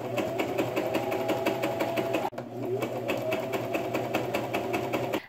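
Sewing machine stitching up the sides of muslin-interfaced dress cuffs for a black dress, a steady close running hum with a brief stop in the middle before it starts again.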